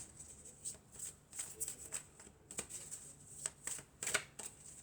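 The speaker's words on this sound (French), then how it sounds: "Alors ensuite, on va prendre quelques cartes de l'oracle de la triade." Oracle cards being shuffled by hand, a soft continuous riffling and flicking with irregular rhythm, close and quiet, with no talking over it.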